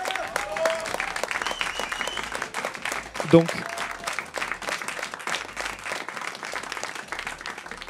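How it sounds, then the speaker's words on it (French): Audience applause at an esports final trophy presentation for League of Legends finalists, a steady sustained clapping across the whole stretch with a presenter's voice speaking over it. "merci voilà, pour vos applaudissements"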